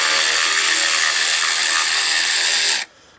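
A Hercules power ratchet from Harbor Freight loosens bolts on a 1975 Ford 550 backhoe, giving a loud, close, continuous whirring buzz for nearly three seconds before cutting off abruptly.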